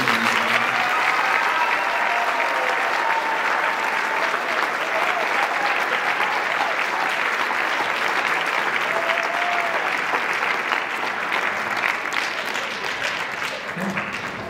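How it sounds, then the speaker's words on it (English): Large audience at a school senior show and awards night giving sustained applause for students, a dense steady wash of clapping lasting the whole stretch before easing slightly at the end. "can we all just give a round of applause for the great students and the great people?"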